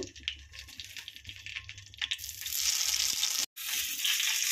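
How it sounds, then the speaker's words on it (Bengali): Eggplant pieces sizzle and fry in hot mustard oil in a wok, quiet at first and then swelling into a loud, steady crackle that cuts off briefly and resumes. "দিয়ে দিলাম এখানে সরষের তেল। এখন আমি বেগুনগুলো একটু ভেজে নিব।"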